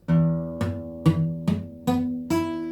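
An acoustic guitar chord strummed with the fretting fingers touching neighbouring strings, six separate strums in a slow, even rhythm, each bright attack fading into a ringing but partly dulled tone, close and alone.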